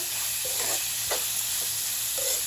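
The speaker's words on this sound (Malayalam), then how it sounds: "നന്നായിട്ട് ഇളക്കി കൊടുത്തിട്ട്" Bitter gourd frying in a pan as it is stirred, giving a steady soft sizzle with a few brief scraping strokes of the spoon, close and alone.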